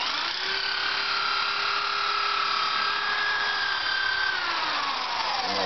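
A drill bores holes in horn nocks, a steady high whine with a faint pitch drift that runs for several seconds before winding down near the end, close and alone.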